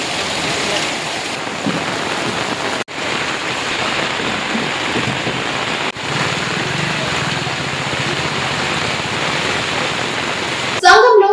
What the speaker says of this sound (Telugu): భారీ వర్షం కురుస్తున్న సందర్భంగా